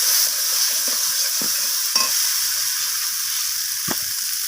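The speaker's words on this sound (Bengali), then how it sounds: "এর মধ্যে দিয়ে দিলাম কেটে রাখা পেঁয়াজ দিলাম কলিকে আমি এগুলোর সাথে কষিয়ে নিচ্ছি" Chopped onion and spring onion stalks being sautéed in a pan for an egg omelette curry with green peas, giving a steady, bright frying hiss with a few soft spatula knocks, close and constant, no voices.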